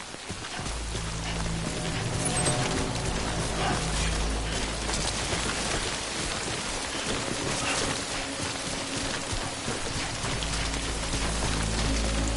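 Steady rain falls in the video game Death Stranding, a close, even patter of drops on surfaces that runs unbroken throughout over a low rumbling drone.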